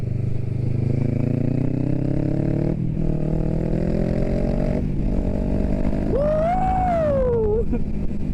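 A motorcycle fitted with an Akrapovič exhaust growls loudly and steadily at close range, then snaps into a sharp rising and falling rev bomb near the end. Voices may be faintly mixed in.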